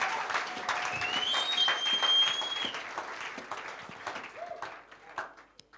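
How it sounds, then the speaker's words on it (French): A church congregation claps and applauds steadily for several seconds at a French-English bilingual service, with a sustained tone ringing above the clapping before it thins out. "Can we give him a word of applause?"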